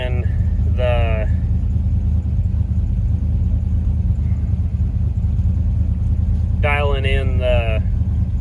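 A 1985 Chevrolet K20 Suburban with an LS engine swap idles steadily, a loud, continuous low rumble throughout with timing set high, while someone talks over it in two short stretches.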